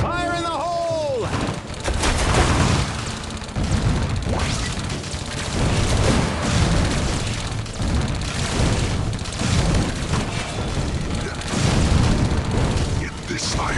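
Explosions in the Iron Marines mobile strategy game: repeated heavy booms and crashing blasts under a constant din of battle, with dense rumbling layers throughout and a short voice line at the start.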